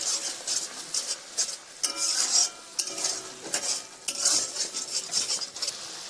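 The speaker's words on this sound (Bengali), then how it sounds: "আগে থেকে বেটে রাখা সর্ষে তার মধ্যে দিয়ে দেবেন সর্ষে দেওয়ার পর একটু নাড়াচাড়া করে নেবেন" Ground mustard paste is stirred in a pan for a Bengali dish of pointed gourd stuffed with bhola fish. A spoon scrapes and clinks steadily against the metal pan, close and fairly loud, with no talking.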